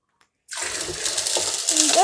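After a brief silence, water is poured into a goldfish aquarium, a sudden steady splashing gush that continues close and loud to the end, with no talk.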